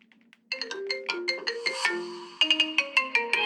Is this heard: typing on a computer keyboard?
no